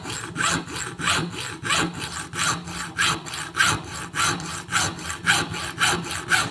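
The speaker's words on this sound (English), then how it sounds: "I'll see how good I am with a little hacksaw" A small hand hacksaw with a narrow blade cuts through a small metal valve keeper, giving steady back-and-forth rasping strokes in an even rhythm, loud and close with no talking.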